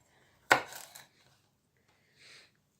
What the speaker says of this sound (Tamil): நான் இதை இப்படி கொஞ்சம் கீறலாக வெட்டி கொள்கிறேன்